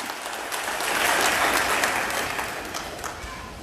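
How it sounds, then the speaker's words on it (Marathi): Applause from the audience at a political gathering of Konkan residents in Pune: a dense, steady clapping that swells quickly and holds for a few seconds, fairly loud and without speech. "जोरदार टाळ्या झाल्या"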